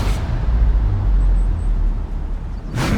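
A supercharged 7-litre V8 making over 1,000 horsepower, in Forza Horizon 4, holds a steady, deep low rumble close by from start to finish, with no distinct revs or shifts.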